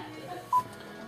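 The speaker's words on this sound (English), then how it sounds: "Please start speaking after the beep." A single short electronic beep from the hands-free Bluetooth phone system of a 2011 Cadillac SRX, triggered by the steering-wheel button, clear and brief against a quiet cabin.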